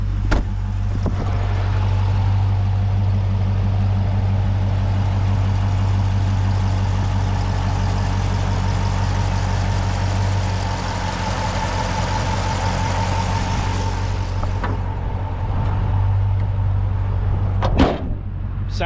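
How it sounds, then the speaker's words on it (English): A stock-exhaust 2009 Dodge Challenger R/T idles steadily and loudly up close with the hood open, a deep even rumble held for most of the stretch before a brief knock near the end. "let me show you underneath the hood while it's running so you can hear it idle"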